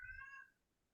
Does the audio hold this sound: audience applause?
no